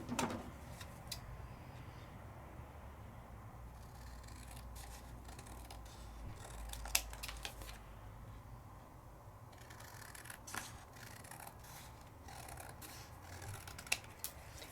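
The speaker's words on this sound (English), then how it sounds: "I'm just going to trim it out" Paper being trimmed with scissors or a die-cut tool in a card-making setup: soft, close snips and rustles over a low, steady background hum, with a few sharper cuts scattered through.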